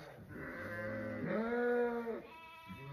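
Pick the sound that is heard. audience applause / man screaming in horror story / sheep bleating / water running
sheep bleating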